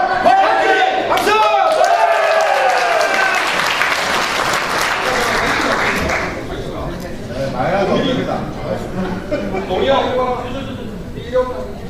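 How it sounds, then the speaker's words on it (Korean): Audience applause at a speech contest breaks out loudly and crowd noise follows, with cheering and voices continuing as the clapping fades. "박수."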